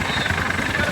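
Steady whirring drone of a rescue helicopter flying over a beach, constant and fairly loud for a brief moment, with no voices.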